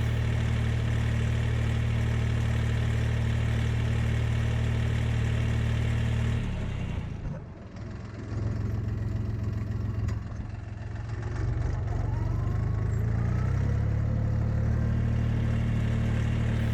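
A tractor engine runs steadily in reverse gear, a loud droning hum that dips briefly midway before settling back to an even, close running note.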